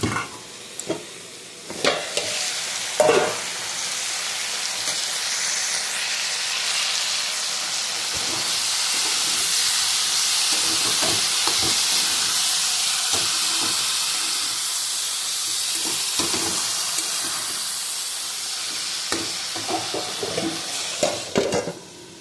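Vegetable bhaji of potato and cauliflower fries in a wok, giving a continuous close sizzle broken by scraping stirs and clinks of a spatula, with no talk throughout.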